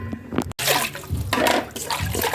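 Cold water poured over omena sardines to wash them, a steady splashing and gurgling of liquid close by with a brief break partway through.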